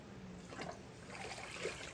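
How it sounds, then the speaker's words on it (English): A glazed pottery piece dunked into a container of clean water, giving soft trickling and splashing sounds at close range, with no talk over it. "So we need to give these a couple quick dunks"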